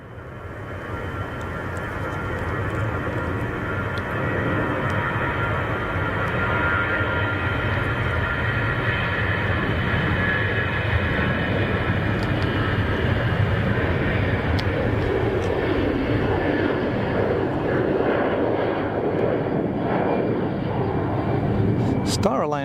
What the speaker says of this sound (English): I can hear that 319 cranking it